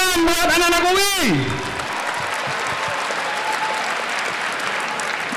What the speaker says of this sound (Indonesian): Tepuk tangan buat anak-anak UI.